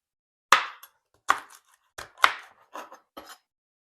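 Knife cutting the ends off vegetables for chicken kare-kare: five or six sharp, separate cuts against a board at uneven intervals, close and clear against silence.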